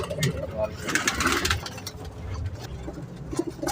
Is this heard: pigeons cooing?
yes